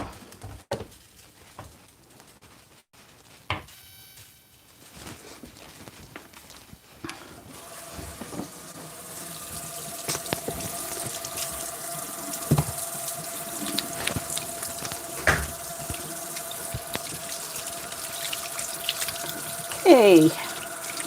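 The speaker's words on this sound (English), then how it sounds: "And I'm going to wash my hands." Water running steadily from a kitchen tap while hands are washed, starting after a few quiet handling knocks and rising to a constant close gush with splashes, and a brief voice near the end.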